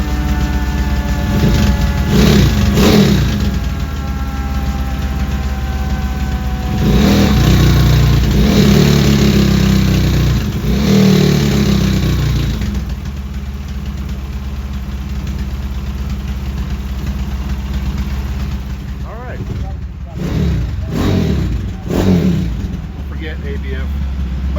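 A Honda Trail CT70 with a 212cc engine runs on a mobile motorcycle dyno, idling loudly then revving in several bursts, with a constant high whine behind it and voices talking over it.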